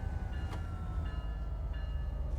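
Train from the game Train Sim World 5 rumbling steadily along at low volume, a constant low drone with faint tonal whine and a couple of soft clicks.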